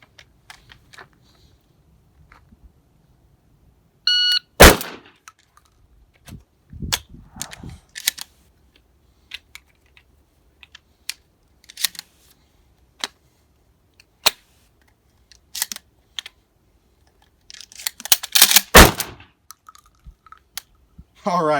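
Shotgun being reloaded by hand with four rounds pulled from a Speedfeed stock, heard as scattered sharp clicks, clacks and metallic snaps of shells seating, with a couple of louder bursts, against near silence.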